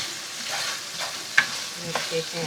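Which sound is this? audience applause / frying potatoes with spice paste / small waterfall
frying potatoes with spice paste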